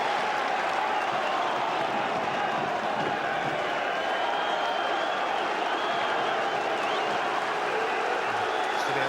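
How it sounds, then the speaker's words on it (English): Celtic fans packing one end of Tynecastle stadium applaud steadily through a football match, a dense continuous wash of clapping and crowd noise heard from a distance, with a commentator talking over it. "Stilian Petrov gets the applause from the Celtic fans who naturally have packed out that end of Tynecastle."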